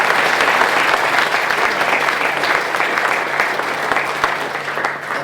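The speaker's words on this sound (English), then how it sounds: "Let's give them a round of applause." An audience at a panel discussion gives a sustained round of applause, loud and steady dense clapping filling the room without a break.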